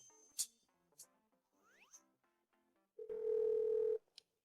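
A telephone is dialed for a call: a few clicks and a sweeping electronic tone come first, then a steady, loud dial tone sounds for about a second and ends with a short beep.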